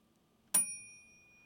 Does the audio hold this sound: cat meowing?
no